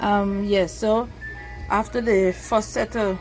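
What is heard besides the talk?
No everyday noise stands out behind the speech.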